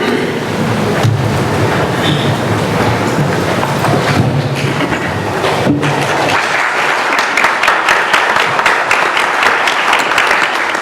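An audience at a forensic science symposium claps loudly and continuously, dense and crackling, then the clapping thins into sharper, more separate claps toward the end.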